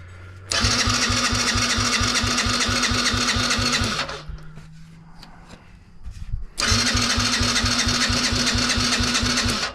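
A 2001 Yamaha Raptor 50cc ATV engine with old fuel and the choke on cranks without catching, in two long rhythmic bursts of starter chugging separated by a quiet pause.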